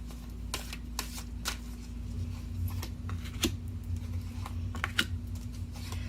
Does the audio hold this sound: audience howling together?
no